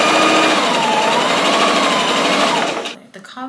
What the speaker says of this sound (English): I'm going to sew up the collar so I can start pinning